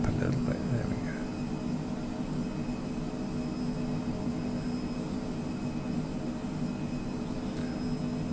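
A Phenom 100 business jet in Microsoft Flight Simulator gives a continuous, even cockpit hum of jet engines with a steady whine, unbroken for the whole stretch, with a couple of faint clicks at the start.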